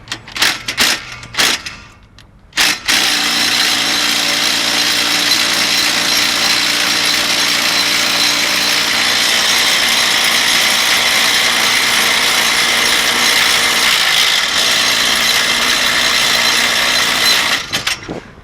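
A cordless drill spins a 9mm bolt welded onto a tiny house trailer hitch, a loud, steady whirring grind running close and alone for about fifteen seconds after a few short bursts.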